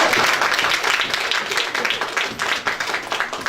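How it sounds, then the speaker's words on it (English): A crowd claps at a grant signing ceremony for school improvement, with distinct individual claps audible within moderately loud applause that thins and becomes choppier near the end. "I thought I would get a big applause."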